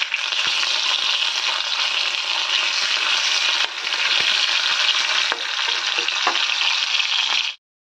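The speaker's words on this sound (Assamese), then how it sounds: "মই এয়া মাছ ভাজি আছোঁ দুপিছে ভাজিছোঁ মাছ" Fish frying in a pan on a low gas flame, a steady close sizzle that runs unbroken for about seven seconds with faint clinks, then stops abruptly.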